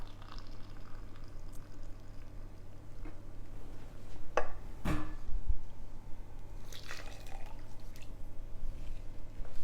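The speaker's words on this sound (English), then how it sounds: "And then we're going to add 1 cup of boiling water." Boiling water is poured into a chocolate devil's food cake batter in a home kitchen. A soft, continuous liquid splash and trickle is heard, with a brief sharper pour midway, fairly quiet and close.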